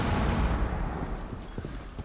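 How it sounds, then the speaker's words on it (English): A breaching charge grenade detonates in Rainbow Six, a loud broadband blast at the start that rolls off into a rumbling decay with a few faint clatters after. "that's my breaching charge apparently, is a grenade"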